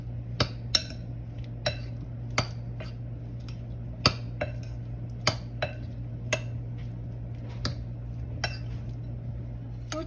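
Fruit cobbler filling gets mixed in a bowl, a spoon clinking sharply against the sides in a steady irregular series of close taps over a faint low hum, with no talking.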